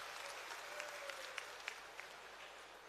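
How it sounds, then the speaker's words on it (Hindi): A crowd at a Haryana political rally claps, faint and distant, a soft continuous patter of applause with a few sharper claps standing out. "जोरदार तालियां माताओं बहनों के नाम पे"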